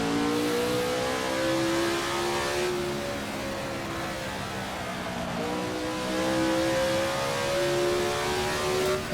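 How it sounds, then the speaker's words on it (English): A race car engine holds full throttle in a 1967 South African Grand Prix racing game, a loud, continuous high whine with rising pitch, a brief dip near the middle, then climbing again. "full on the throttle there, and then braking to 3rd gear here."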